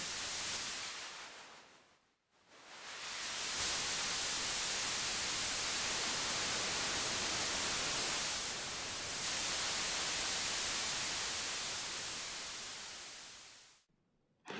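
Dense white noise from the Zebra software synthesizer hisses continuously, shaped by low-pass and high-pass filters, with a brief dropout early on, a slight dip midway, and a sharp cutoff near the end.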